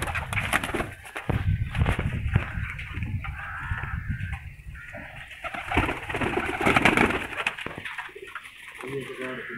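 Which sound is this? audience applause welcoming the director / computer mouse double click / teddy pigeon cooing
teddy pigeon cooing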